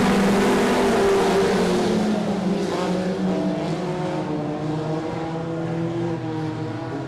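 A field of dirt-track race cars roars together at a green-flag start, engines loud and rising in pitch at first, then settling into a sustained overlapping drone as the pack pulls away.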